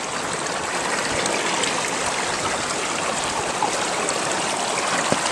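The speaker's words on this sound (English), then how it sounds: "You kind of want water coming through the scoop." Water rushes steadily through a fluid bed gold sluice, a 3-foot River Bed Hog beside a 23-inch Paystreak Finder, giving a constant, loud, close hiss and gurgle with no pauses.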